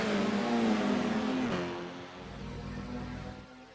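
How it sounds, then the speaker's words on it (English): Formula 4 race cars rev and accelerate at Oran Park Raceway, a loud engine note climbing in pitch, then dropping into a steadier drone as the field pulls away at the green flag. "Drivers rev their engines, ready to go."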